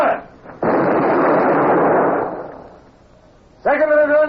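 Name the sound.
ship's cannon battery firing a broadside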